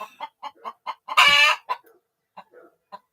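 A hen clucks in a steady series of short bursts inside a henhouse, then lets out one long, loud squawk before the quick clucks resume, close by.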